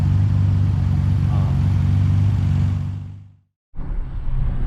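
A truck engine drones steadily while driving, a low continuous hum that fades out near the end, drops to silence, then returns.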